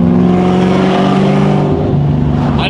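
A high-mileage Ford Mustang engine, around 190,000 miles, revving in third gear at about 2,500 RPM, heard as a loud, steady, close droning hum from inside the car that shifts slightly in pitch near the end.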